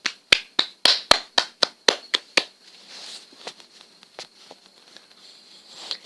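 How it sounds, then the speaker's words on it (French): Hands clap in a quick run of about ten sharp, loud claps, then trail off into a few fainter, scattered taps and patters. "On peut tous l'applaudir."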